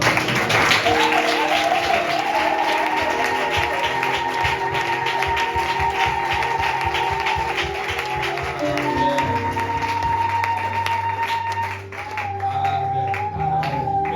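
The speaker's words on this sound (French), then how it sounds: "On acclame le Seigneur." A church congregation at a June fasting and prayer closing service applauds in steady rhythmic clapping, mixed with sustained keyboard or organ tones and voices throughout.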